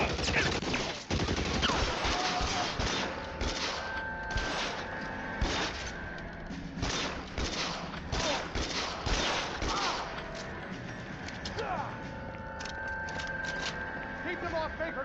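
Rapid gunfire from a shootout in the L.A. Noire video game, with dense bursts of shots and clattering volleys repeating throughout, under occasional voices.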